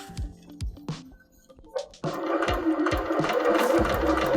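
A sewing machine stitches a seam for foundation paper piecing, starting with a few short bursts and then running in a steady, fast whirring run with rhythmic needle thumps, close and clear with no talking.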